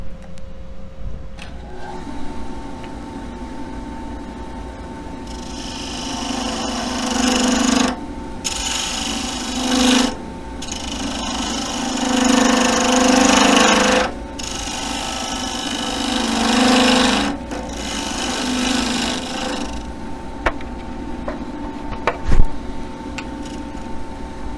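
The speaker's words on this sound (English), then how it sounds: "That's how far I need to turn the tenon. And for that I'm going to use a bedan." On a wood lathe, a bedan cuts a tenon on a wooden file handle, giving bursts of rough scraping and shaving noise over a steady motor hum. The cuts come in close, uneven passes with brief pauses between them.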